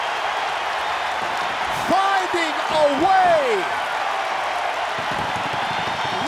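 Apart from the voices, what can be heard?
wrestling arena crowd of 16,000 cheering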